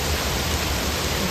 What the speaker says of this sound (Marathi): पाऊस बघा किती पडतोय, तर रस्त्यावरून पाणी वाहतंय, एवढा पाऊस पडतोय